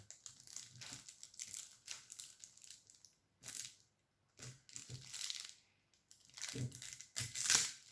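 Plastic shrink-wrap being peeled and torn off a Deviant Moon borderless tarot card deck, close crinkling and crunching bursts in several separate bouts, with near silence between them.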